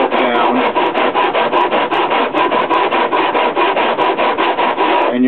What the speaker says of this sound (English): So basically you'll sand it down